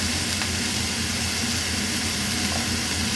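Shrimp and pumpkin-leaf stems stirred in a pan, an even close sizzle with a low steady hum underneath and no distinct scrapes, no one speaking.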